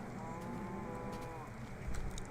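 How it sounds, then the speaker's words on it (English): Cows mooing in the video game Celestial Dreams, a faint, steady bovine drone buried in a dense bed of in-game ambience and music, continuous and far-off rather than distinct calls. "You just walk by and it's like non-stop mooing. Just constant moo, moo, moo."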